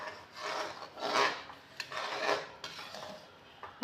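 Thick black urad dal kali stirred continuously in a pot, giving rhythmic rasping, scraping strokes of a spoon against the pan, close and fairly quiet, with no talk.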